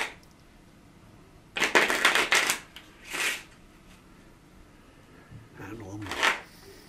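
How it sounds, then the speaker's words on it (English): Cards riffled in a couple of quick bursts of crisp flutter, close by, separated by short pauses, with a little handling noise between. "I'll shuffle them myself."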